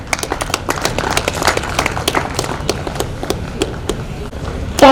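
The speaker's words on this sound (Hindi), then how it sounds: "तालियां बजती रहनी चाहिए" Audience applause at a Mudra Loan Mahotsav public event in Jammu: a dense, sustained wash of many hands clapping that continues steadily throughout, with a slight swell at the very end.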